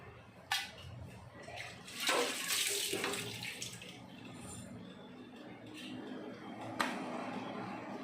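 Tamarind water pours into a pot of simmering brinjal kuzhambu, a steady, close liquid splash and gush with a few clinks of utensils against the vessel.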